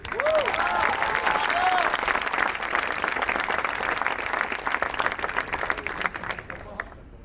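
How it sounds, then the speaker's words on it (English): At a charity tennis gala, the audience breaks into a loud round of applause for Coco Gauff, a dense, steady burst of clapping from a sizable crowd that carries through and eases slightly near the end. "give a loud round of applause for my dear friend, Coco Gauff"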